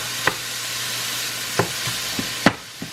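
A pound of ground beef browns in a frying pan with a continuous close sizzle, broken by a few sharp spatula scrapes and taps and no voices.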